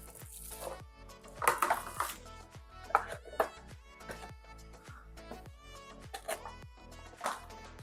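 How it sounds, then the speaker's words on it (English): Fresh ginger is rubbed over a very fine grater in a home kitchen, giving a run of short, rhythmic scraping strokes with soft music playing underneath. "we're gonna start by mincing, by grating this ginger"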